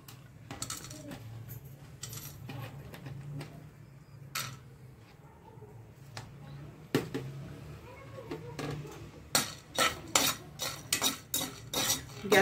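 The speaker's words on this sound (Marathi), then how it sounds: "हे खडे मसाले पहिल्यांदा आपण छान भाजून घ्यायचे आहेत।" Whole spices dry-roasting over a high flame in a pan while being stirred, giving repeated scraping and rattling clicks that grow denser and louder toward the end, with faint background sounds.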